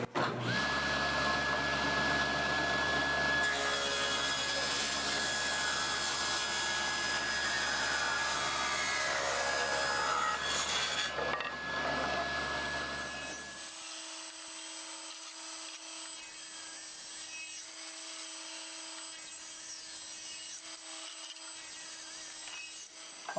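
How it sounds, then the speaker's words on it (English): A fairly quiet saw cuts strips from a very old wooden board with a steady whirring, loud and close for about thirteen seconds, then drops away to a faint motor hum as it winds down. "So let's go ahead and start cutting up some strips."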